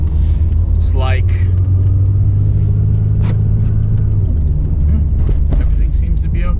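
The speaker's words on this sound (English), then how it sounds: "Had a real scare there with the old spooky Jeep. My 96 Jeep Grand Cherokee" A 1996 Jeep Grand Cherokee driving with a heavy, steady low engine and road rumble that eases off partway through, while people talk intermittently over it.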